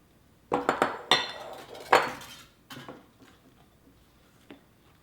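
Thick fudgy brownie batter worked in a bowl with a sturdy spatula or spoon, giving a cluster of sharp clinks and scrapes against the bowl early on, then fading to occasional soft knocks.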